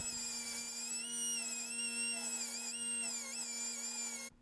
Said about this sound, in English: And then ground the welds flat.